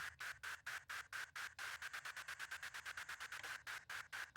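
On an AlphaTheta DDJ-FLX2 DJ controller, a noise effect is chopped into fast rhythmic bursts by a trans effect, hissing pulses that speed up and keep an even beat.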